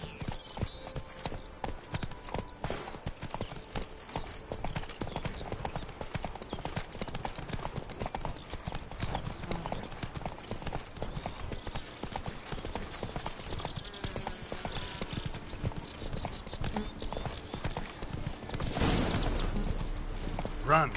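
Roach, the horse in The Witcher 3, gallops with fast continuous hoofbeats throughout, under game music and occasional speech.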